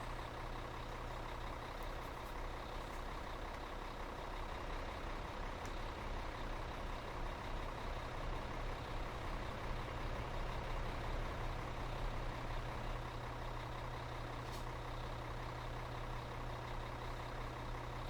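A truck drives in the Farming Simulator 2013 video game on a modded South Dakota map. Its engine gives a steady, droning low rumble with a constant hum throughout, fairly quiet and unbroken, with no speech.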